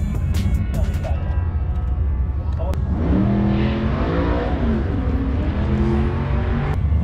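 Supercharged drag racing car with a large blower launching and accelerating hard down a dragway, loud roaring engine rising in pitch over crowd and track noise.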